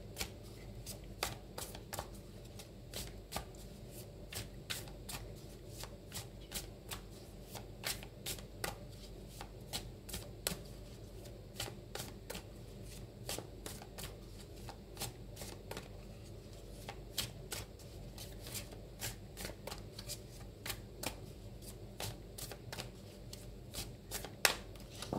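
A deck of cards is shuffled and handled repeatedly during a tarot-style reading, soft riffles and sharp flicks recurring quietly over a long stretch with faint room noise between.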